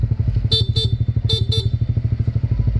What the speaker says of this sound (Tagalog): Pag naka-off, stock horn